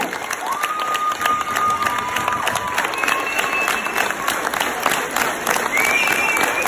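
An audience at a dance competition in St Saulve applauds the dancers with a thick, continuous clatter of clapping mixed with crowd cheers, while thin sustained tones ring faintly over the noise.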